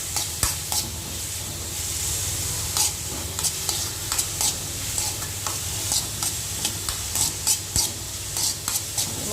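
Soya egg thoran stirred in a pan, a spatula scraping and tapping in irregular bursts over a low steady sizzle, close and fairly loud.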